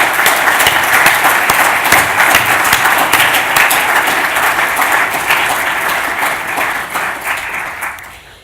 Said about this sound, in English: So I'd like you all to give them a big round of applause for their work producing this conference